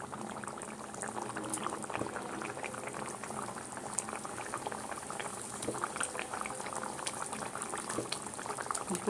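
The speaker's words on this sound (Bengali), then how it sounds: "এইখানে দেখো ঝোলটা ফুটছে" A lentil curry gravy boils in a pan with a continuous bubbling, popping simmer at moderate volume, steady throughout with no talk.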